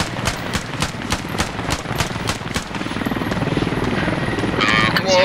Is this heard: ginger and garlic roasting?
no